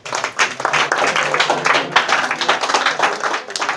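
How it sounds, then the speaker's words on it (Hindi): An audience claps for a student at a school board-exam award event, a dense burst of many hands that stays even and loud throughout, with no talk over it. "हाँ ताली बजाइए इनके लिए।"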